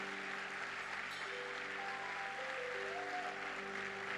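A church congregation claps in praise during a Sunday morning service, the applause fairly faint under sustained musical tones from an organ or keyboard.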